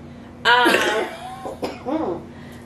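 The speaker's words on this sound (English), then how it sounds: "sorry for the cough in the camera" A loud, close cough bursts out, followed by a shorter second cough a moment later, over a faint steady hum.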